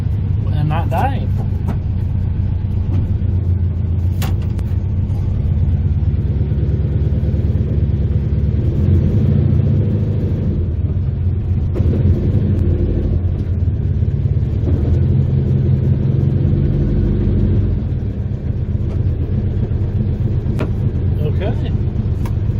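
A car engine idles steadily with a deep low rumble throughout, occasional light knocks and handling noises over it, no clear revving.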